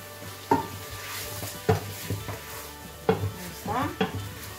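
Chicken and peppers frying in a tajine are stirred with a utensil, giving several distinct scraping clatters over a steady low sizzle, close by with no talking.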